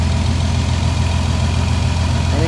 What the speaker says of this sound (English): strong running engine,